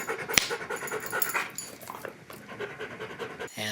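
A big dog pants after a round of frisbee, quick breathy huffs repeating close by, with a sharp click near the start and light background noise.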